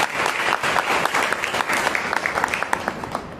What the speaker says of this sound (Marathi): म्हणून काकूसाठी एकदा टाळ्या उद्या